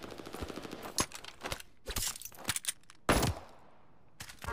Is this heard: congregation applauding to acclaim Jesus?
no